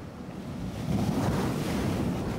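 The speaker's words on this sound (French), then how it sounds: "Bientôt, la marée remonte et l'océan recouvre sa splendeur." Ocean surf rolls in as the tide rises, a steady broad wash of breaking waves mixed with wind buffeting the microphone, fairly loud and continuous.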